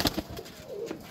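Pigeons, one of them a ring-numbered bird at a sale, give a soft cooing call among short wing flutters and handling knocks at close range. The sound is fairly quiet and brief, with no talk.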